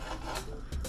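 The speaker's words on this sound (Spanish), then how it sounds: "Ahora voy a partir el tocino" A knife cuts through bacon for a quick soup in rough, rasping strokes on a board, close and steady across the moment, with no talking.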